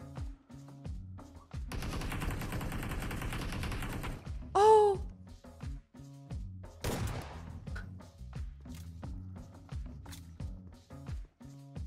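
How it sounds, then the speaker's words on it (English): Shotgun blasts and gunfire in the video game Warzone, a long burst of dense firing followed by sharp shots, a high whining sweep and scattered mechanical clatter, loud and close. "Here's a shotgun right to the face, baby."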